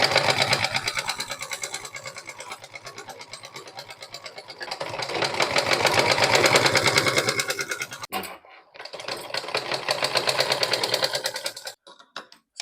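Sewing machine stitching piping onto a pillow made from waste cloth, a fast close mechanical chatter running in long bursts that swell and ease, with brief pauses and a short stop near the end.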